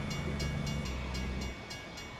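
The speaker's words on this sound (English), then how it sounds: "Boy, this must be a long train." A long train rumbling past in American Truck Simulator, a loud, steady roll with faint rhythmic clacking, alone without talk.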